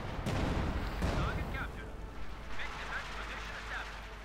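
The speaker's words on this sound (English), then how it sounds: "even as artillery tears it apart, and light machine guns cut it down." Artillery fire in a combat video game, with dull booming blasts and rumbling impacts in the first second or two, then a busier scatter of distant shots and chirps while a voice talks over it.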